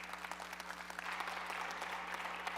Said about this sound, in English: So if I can get a round of applause